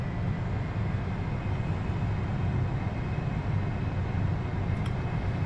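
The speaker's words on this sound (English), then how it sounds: "So just gonna keep on taxiing all the way down." An Airbus A320 taxis along the ground, heard from inside as a steady, loud low engine rumble and broadband cabin roar that holds evenly without change.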